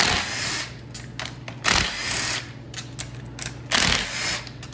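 A 10 millimeter socket loosens bolts on a Troy-Bilt Pony riding mower, heard up close as loud, rapid ratcheting clicks in several bursts with brief pauses between.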